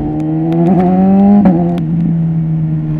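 A BMW S1000RR motorcycle engine revs hard and climbs in pitch, with a brief dip as a gear shifts before it pulls on again, loud and close throughout.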